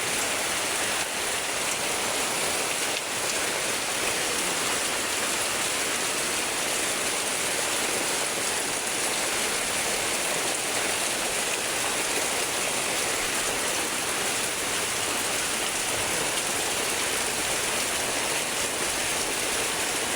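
Heavy rain pouring down during flooding in a dense, unbroken roar, loud and close throughout, with floodwater rushing beneath it.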